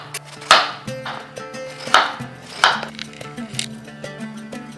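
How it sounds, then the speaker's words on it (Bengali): A knife slices through a long bottle gourd (lau) in a home kitchen, giving a few crisp cuts spaced unevenly over a steady tonal background. "স্লাইস করে কেটে নিচ্ছি।"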